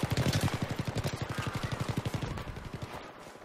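Steady rapid gunfire in the Battlefield 3 beta, a long evenly spaced string of shots that fades slightly toward the end, fairly close and heard without speech.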